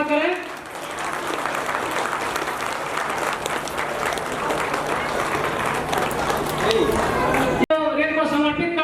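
An audience at a community social gathering in Bihar claps loudly and steadily for several seconds. The sound is dense and sustained, with a brief cut near the end, followed by a voice speaking over the dying claps.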